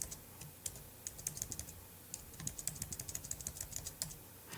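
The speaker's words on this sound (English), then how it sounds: "hold the Option key or the Alt key and use the left and right bracket keys" Computer keys pressed in quick irregular bursts while adjusting text spacing in Affinity design software, a close, crisp clatter of clicks with brief pauses and no talk.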